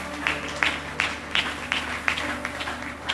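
A church congregation applauds in rhythmic claps, about three per second, moderately loud, with crowd cheering and murmuring beneath.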